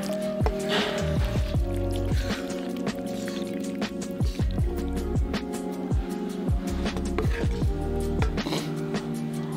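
Soft, wet squishing and dripping of cheese onto a plate of Jamaican jerk chicken pasta, as repeated small splats and gooey drips over a steady background hum, close and fairly quiet.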